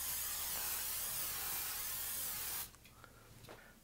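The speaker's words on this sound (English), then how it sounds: "first we're gonna spray or butter our pan" A steady hiss of cooking spray sprayed onto a pan runs for a couple of seconds, then cuts off, leaving faint clicks and handling noises.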